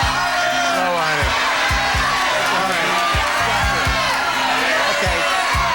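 A game-show studio audience cheering and whooping loudly, a dense continuous roar of many voices with shouts and yells rising out of it, close and sustained throughout.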